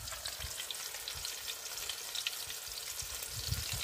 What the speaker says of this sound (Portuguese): E a gordura tá ali na frigideira, tá?